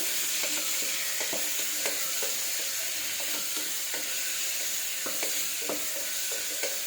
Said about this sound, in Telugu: బాగా వీటినంతా కలిపేసుకోవాలి కొద్దిసేపు